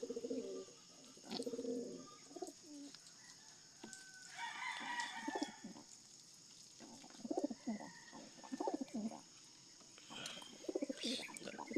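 Pigeons give low, throaty coos in short bursts, some overlapping, with faint background hiss and an occasional brighter call.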